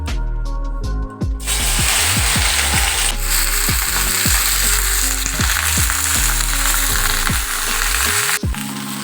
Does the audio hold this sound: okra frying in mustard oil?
yes